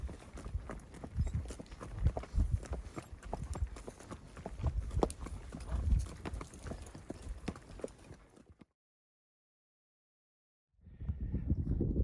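Hooves of a ranch horse clip-clop at a walking pace, close by and uneven, with a brief silent gap before the steps resume.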